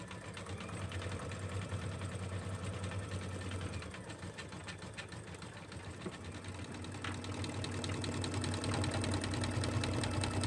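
An embroidery sewing machine runs at normal speed with a fast, steady mechanical chatter and hum, constant and close, growing slightly louder toward the end, with no talk.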